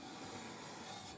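Sandpaper rubs back and forth on a thin metal part, a close, steady rasping scrape that lasts the whole moment, quiet and without talking.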